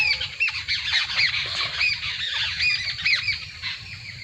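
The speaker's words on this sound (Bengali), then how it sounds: "পাখির কিচিরমিচির শব্দ" Birds calling in a rural village with mango and lotkon orchards, a busy flurry of repeated squawks and chirps, near and fairly loud, overlapping in irregular bursts.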